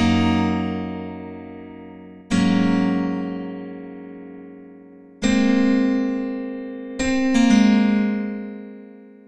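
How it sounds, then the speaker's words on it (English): Sustained piano notes from a Kontakt piano preset in the Addictive Synthesis library, struck one at a time in several separate hits, each ringing out and slowly decaying, clean with no talk. "There's the piano right there."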